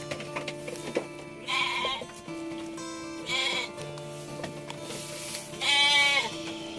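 Goats bleating at a farm, three distinct calls spaced a couple of seconds apart, fairly close, with a faint tonal hum in the background.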